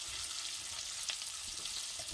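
Bacon frying in a pan, a soft, even crackling sizzle that stays quiet and continuous throughout.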